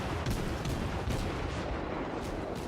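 German tier-three cruiser guns in World of Warships fire in repeated booming salvos over a dense, loud battle rumble, with shots overlapping one another.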